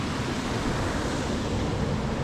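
Water pours steadily over the overflow of a deep reservoir in Scotland, a continuous loud broadband rush with no pauses and no voices.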